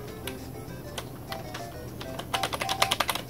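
Keys clacking on a computer keyboard used as a game controller for a Raspberry Pi retro gaming setup, with scattered single presses early and a rapid, louder burst of taps near the end; no speech.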